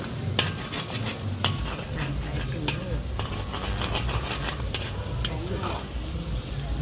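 Pad thai noodles with egg sizzle in a hot wok at a market stall in Khon Kaen, Thailand, as a metal spatula clanks and scrapes in quick strokes, with chatter in the background.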